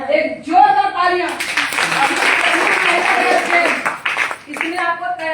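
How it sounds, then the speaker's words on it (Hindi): Loud applause and clapping from an audience at a women's health gathering fill the middle of the moment, with speech before and after it. "सभी के पास एक जोरदार तालियां"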